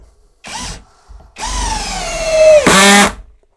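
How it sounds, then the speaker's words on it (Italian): A Parkside cordless impact drill driver drives screws into wood with its clutch set, giving short close whirring bursts whose pitch drops under load, ending with a sharp higher whine as the screw seats. "la frizione corretta per poter avvitare le viti per bene"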